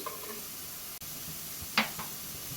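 Ingredients being sautéed in a pan for chicken mandi, a soft steady sizzle with a sharp click and a brief metallic scrape, close and fairly quiet, without voices.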